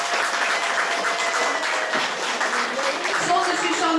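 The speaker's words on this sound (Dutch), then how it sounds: "Een heel groot applaus mag ze daarvoor hebben" Wedding show guests applaud Suzanne for her work on the party committee, a full, continuous sheet of clapping from a crowd that stays loud throughout, with voices and cheers mixed in.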